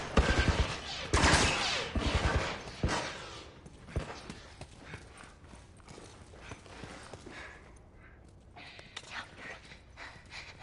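Soldiers' gunfire in The Last of Us Part 1, sharp bursts of shots loud and close early on, then scattered, fainter pops and clatter with brief voices in between.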